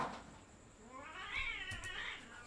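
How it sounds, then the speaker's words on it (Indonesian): Cats fighting and caterwauling nearby, a rising, wavering yowl that swells and holds for a couple of seconds before fading, with a few sharp scuffling accents. "ada kucing lagi berantem"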